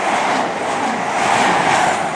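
A CrossCountry train on the Aberdeen to Penzance service passes through Ashchurch station, a loud, close roar of wheels and rail noise that stays constant across the short span.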